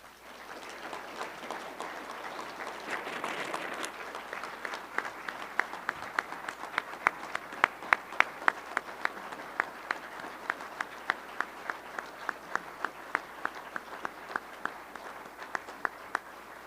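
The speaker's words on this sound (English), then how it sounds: "Ladies and gentlemen, let's give them all another round of applause" An audience applauds veteran honorees at a university Veterans Day ceremony. The dense crowd clapping is steady at first, then thins into sharper, more separate claps that continue throughout.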